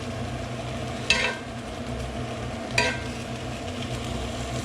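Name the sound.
vegetables sizzling in olive oil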